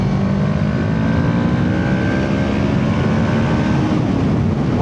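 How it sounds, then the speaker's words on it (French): A Kawasaki ER6N motorcycle with about 100,000 km on it drones steadily on the road, its engine a loud, continuous rumble with faint wind noise and no talk. "Moi, je suis pas très fan du bruit du moteur."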